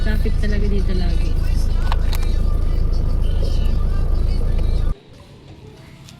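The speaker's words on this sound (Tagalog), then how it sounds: "Traffic talaga dito lagi." Road traffic passing on a busy road in the Philippines, a loud continuous engine rumble and whoosh with voices talking over it, cutting abruptly to a quieter background near the end.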